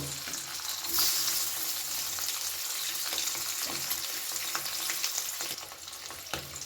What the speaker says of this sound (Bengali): পনির ভাজা তেলের মধ্যেই আমি সেদ্ধ করা আলুগুলোকে টুকরো করে কেটে ভেজে তুলে নেব